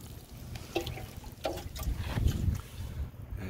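Water poured over a wooden burl, a soft irregular trickle and splash close by, rising and falling in short bursts for a few seconds.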